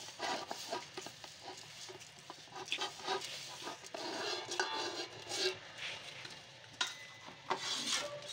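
A spoon stirs rice into black chickpeas in a pot for kale chane pulao, giving close, steady scraping and swishing with soft clinks against the pot and a faint sizzle underneath, without talking.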